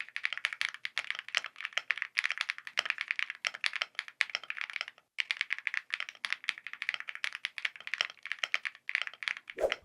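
Typing on an Expert GMK67 (AL65) gasket-mounted mechanical keyboard with heavy foam under the PCB produces a dense, close, fairly soft stream of clacky keystrokes, with one brief pause midway.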